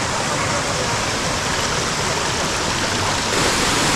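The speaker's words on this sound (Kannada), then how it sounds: "ಇದು ನೇತ್ರಾವತಿ ನದಿ. ನೇತ್ರಾವತಿಯಲ್ಲಿ ಮೂಲಸ್ಥಾನದಲ್ಲಿ ಹುಟ್ಟಿ ನಡ್ಕೊಂಬರ್ತಾ ಇದೆ." The Netravati river flows along a forest trekking trail, its rushing water a steady, loud, close wash that fills the whole stretch without pause.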